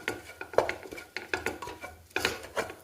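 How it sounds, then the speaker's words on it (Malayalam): A spoon scrapes and clinks against a pot while Kerala-style beef curry masala is stirred, in irregular clattering strokes that are close and fairly quiet, with no talking. "നല്ല ഇളക്കി കൊടുക്കുക."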